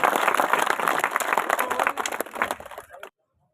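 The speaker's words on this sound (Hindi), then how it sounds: "एक बार जोरदार तालियां बजाएं," Loud crowd applause at a Rajasthani community gathering, dense clapping sustained for about three seconds with voices mixed in, then stopping abruptly into silence.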